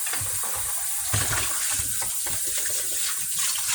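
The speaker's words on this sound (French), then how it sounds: "Je vais rincer tout bien rincé." Running tap water rinses fresh salad vegetables at a kitchen sink in a steady, close, continuous rush with small splashing variations throughout.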